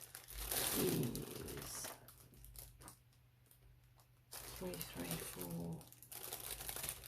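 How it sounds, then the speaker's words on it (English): Crinkling plastic bag full of small packets of thread or floss being rummaged through, bursts of rustle and crackle in between bouts of nearby speech. "Sorry about the crinkling, but I've got a bag full of these."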